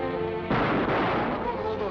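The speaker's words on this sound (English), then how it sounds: "Fire into that bolt." Gunfire aimed at a rusted-in bolt in a 1940 film: a sudden loud, heavy blast that sustains and then rolls into a broad, dense roar filling the rest of the brief clip.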